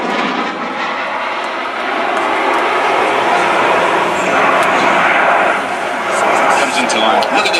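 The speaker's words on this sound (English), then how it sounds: "Ladies and gentlemen, the 2008 Typhoon." A 2008 Eurofighter Typhoon jet flies past at the Biggin Hill International Air Fair. Its loud, sustained engine roar swells slightly toward the middle, with a public-address voice faintly present.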